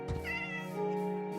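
A cat meows in the video game Gothic Remake, one drawn-out, wavering meow lasting over a second, close and clear with no talk over it.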